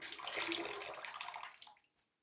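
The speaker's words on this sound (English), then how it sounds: "And we are going to squeeze the brush out." Water squeezed from a wet shaving brush over a sink runs and splashes in a steady close hiss for about two seconds, then tapers off into silence.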